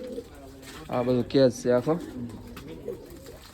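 Indian pigeons coo nearby in low, throaty bursts, mixed with someone speaking briefly over them.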